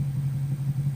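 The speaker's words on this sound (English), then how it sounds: "you can hear my bike barely in the background." Honda VFR800 Interceptor motorcycle engine while riding, a steady low drone with a constant hum, faint and continuous under helmet-intercom wind noise.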